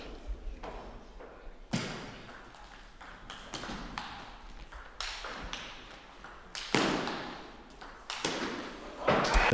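Table tennis ball served and struck in a French League match, a run of crisp, ringing pings and taps from bat and table in quick irregular rhythm, with arena ambience and faint commentary underneath.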